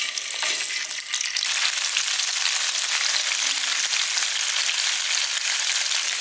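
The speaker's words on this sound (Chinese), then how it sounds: "下面我们把切好的豆腐给它煎一下。" Cut tofu pieces pan-frying over low heat, giving a dense, steady crackling sizzle that runs unbroken and close throughout, with a slight shift in texture near the start.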